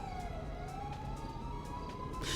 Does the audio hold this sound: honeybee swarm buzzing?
no